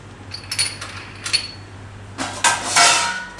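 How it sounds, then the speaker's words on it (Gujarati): Fresh corn cobs being grated by hand on a kitchen grater for a Gujarati makkai khichu, giving scattered scraping strokes and light metallic clinks, then a denser, louder run of rasping toward the end. "તો આ રીતે એકદમ આરામથી છીણાઈ જાય મકાઈ આપણે"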